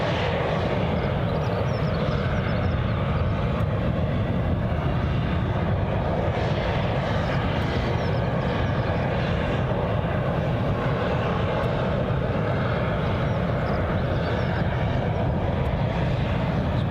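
A Loganair ATR 72 turboprop departs Glasgow International Airport for Southampton, its engine roar loud, steady and broad throughout, with no talk.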